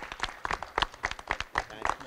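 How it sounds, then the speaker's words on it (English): Applause at a film industry news conference comes as sparse, evenly spaced claps, fairly faint and slightly distant, about eight distinct hits over a couple of seconds. "if you would please, a round of applause"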